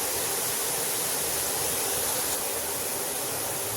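Boondi batter droplets deep-frying in hot oil for a sweet-shop style mixture, giving a steady, dense hiss of bubbling that stays even throughout with no voices.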